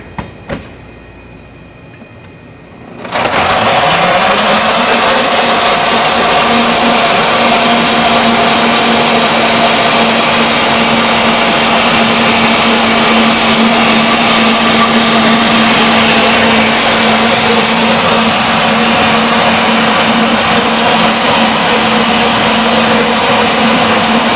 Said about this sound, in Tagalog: So ilalagay na natin siya sa blender.